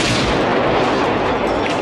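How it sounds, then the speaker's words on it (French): A shotgun blast from the 1990 action film Dark Angel: a loud, dense, sustained burst of gunfire-like noise filling the short moment before cutting off abruptly. "Jack et son fidèle fusil à pompe, ça, c'est quelque chose sur quoi tu peux compter"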